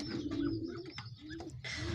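Pigeons cooing at close range on a village farmyard, a low throaty warble repeating through the clip with a few brief higher bird chirps mixed in, no talk.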